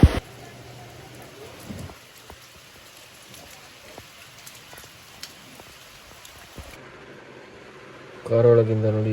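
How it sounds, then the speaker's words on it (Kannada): Heavy rain drumming on a car, heard from inside as a steady patter of drops on the roof and glass, with a person speaking briefly at the very end. "ಜೋರು ಮಳೆ ಬರ್ತಾ ಉಂಟು."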